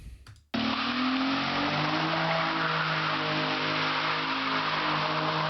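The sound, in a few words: car engine revving, played clip of a possible V8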